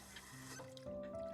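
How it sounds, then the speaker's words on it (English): Cold water splashes into a sink in the video game Taishō Romance Theater, a brief close wet rush lasting about a second over a steady background of soft tonal game music. "As the cold water splashes my face, there's a belated flare of pain in my forehead."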